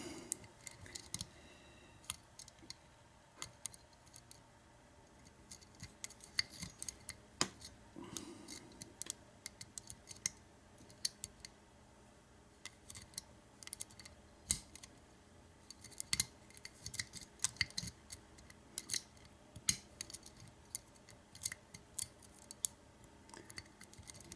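A padlock clamped in a vise being picked by hand, with quiet, irregular metallic ticks and clicks from the pick and tension wrench scattered close up over a soft background.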